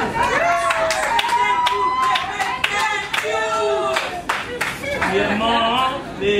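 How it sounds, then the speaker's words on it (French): Wedding guests clapping in a lively hall, a quick, uneven patter of hands running under a voice that talks and sings across the whole stretch, with music-like tones weaving through. "Applaudissez."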